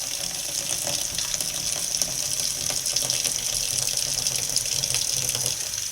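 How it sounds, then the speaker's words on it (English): Hot water gushes steadily from a faucet into a plastic tote, a constant close hiss and splash that stays even in level throughout. "we'll use hot water from the faucet to fill up this tote"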